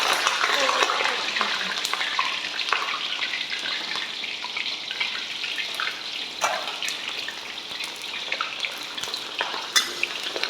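Food fries in hot oil in a home kitchen, a steady close crackle and sizzle with sharper pops and spatters scattered throughout.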